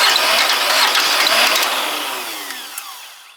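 An old Massey Ferguson tractor engine turns over with a loud, rough mechanical churn, then dies away and fades to quiet, with no talking.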